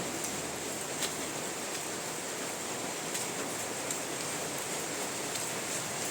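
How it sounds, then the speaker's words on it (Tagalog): Steady rain falls outdoors at night behind a school, a continuous even hiss that holds at the same level throughout with no break and no voices. "Umuulan mga viewers"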